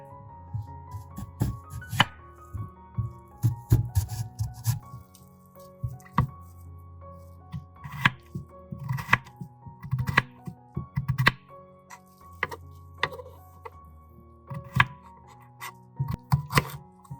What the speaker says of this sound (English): After peeling, the beetroot will be cut into small pieces to make it easier to blend.